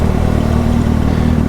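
Motorcycle engine drone heard from the saddle of a bike on a highway, with a nearby Suzuki Gixxer in the mix; a steady, loud, continuous rumble with no breaks, wind and engine blended together.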